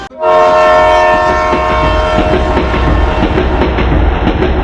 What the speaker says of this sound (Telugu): ఇంకా అక్కడి నుంచి మా ప్రయాణం సాగింది కాచిగూడ ఎక్స్ప్రెస్లో 10:30కి.